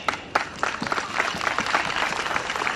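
Audience at an International Day of Yoga gathering in Durban, KwaZulu-Natal, breaking into a round of applause: dense, moderately distant clapping from a crowd, steady for a few seconds with scattered sharper claps.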